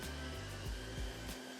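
A ProTeam ProForce 1500XP commercial upright vacuum cleaner runs on carpet with a steady, close, loud whining drone, with low thumps as it is pushed back and forth and no one talking.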